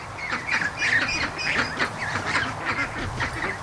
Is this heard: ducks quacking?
yes